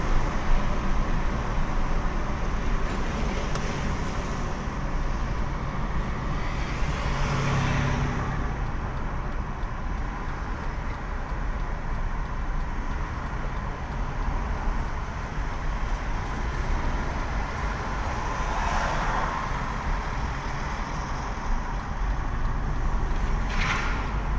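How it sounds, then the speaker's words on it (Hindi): A steady, dense roar of motorway traffic near Paris, with vehicles rushing past continuously and a few louder passes standing out against the constant wash of road noise. "ये जनाब मोटरवे है, ट्रैफिक आप देख रहे हैं।"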